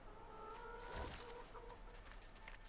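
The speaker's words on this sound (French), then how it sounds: "la poule qui va dans le poison" A chicken in the video game Divinity: Original Sin 2 gives a quick, faint cluck or two over quiet game ambience.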